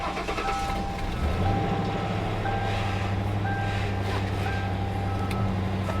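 A used car with 205,000 miles on a salvage auction lot turns over and settles into a steady low idle, with faint electronic chimes and beeps sounding over the engine hum.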